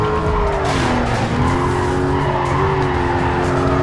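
A car brakes hard and skids in the racing video game Need for Speed Carbon, with a loud, sustained tire squeal over a roaring engine whose pitch slides downward.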